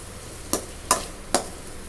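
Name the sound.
stirring ridge gourd and coconut stir-fry in a pan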